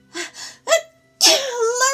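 A storyteller's voice mimics a dog's sneeze with a few short breathy puffs building into a loud, explosive vocal sneeze that trails off into a wavering tone.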